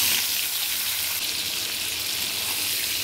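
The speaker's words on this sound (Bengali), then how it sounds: "কড়াতে 4 চামচ সর্ষের তেল দিয়েছি, দিয়ে এবার সেগুলোকে আমি সব ভেজে নেব" Bitter gourd pieces frying in four spoons of mustard oil in a kadai: a continuous, even hiss of sizzling oil, close and fairly loud, with no voices.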